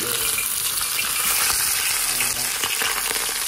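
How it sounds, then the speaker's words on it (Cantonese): Loud, continuous crackling sizzle of a whole fish pan-frying in oil over medium heat, dense and steady throughout with no talking. "咁我哋又都係煎一陣間啦"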